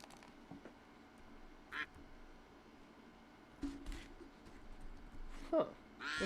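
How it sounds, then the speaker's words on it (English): Several scattered duck quacks come through at moderate loudness, spaced irregularly over a low steady background with occasional soft voice sounds. "We still got them ducks quacking."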